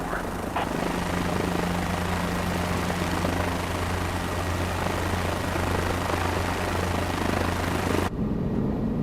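A helicopter flies in Microsoft Flight Simulator 2024, with a steady, loud rotor and engine drone and low thumping throughout that cuts off abruptly near the end.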